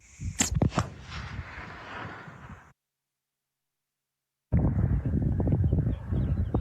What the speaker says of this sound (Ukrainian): Стрілянина з будівель та вибух за вибухом.